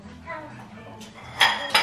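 Dirty dinner plates and dishes being gathered up in a home after a meal, with soft clinks and scrapes that build into two sharper, louder clatters of crockery near the end, close by.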